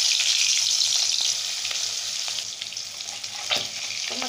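Fish pieces fry in hot mustard oil with a loud, dense, continuous hiss, nearby and unbroken, and a single clatter near the end.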